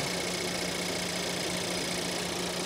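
A car engine with a transverse layout and missing engine cover idles steadily with a busy mechanical clatter, a constant close-up drone throughout.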